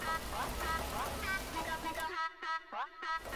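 A steady rain sample hisses loudly in Bitwig Studio, then cuts out abruptly partway through, leaving someone speaking alone in a dry voice.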